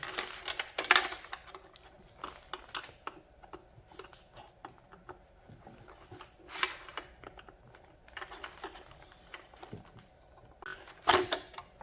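An LED tail lamp is pried apart by hand, giving scattered plastic creaks, clicks and sharp snaps, close and fairly quiet, with brief louder cracks near the start and end.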